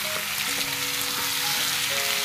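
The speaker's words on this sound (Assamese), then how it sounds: "পিঁয়াজটো মই ৰঙচুৱা হোৱালৈকে ভাজি লৈছোঁ" Onions fry in hot oil for a local chicken curry with squash, browning toward red: a close, constant crackling sizzle with faint tonal hum underneath and no talking.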